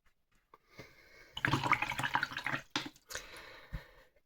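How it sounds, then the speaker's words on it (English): A watercolour paintbrush swished and rinsed in a pot of water, giving soft splashing and clinking bursts followed by a few faint drips, close and quiet. "Give my brush a really good rinse."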